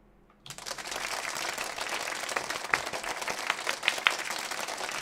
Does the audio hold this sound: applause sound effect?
yes